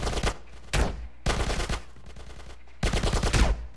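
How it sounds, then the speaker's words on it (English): Bursts of rapid automatic gunfire in GTA San Andreas come in three loud volleys separated by brief gaps, with a quiet rumble between them. "Get some suppressing fire in there! I'll give you some."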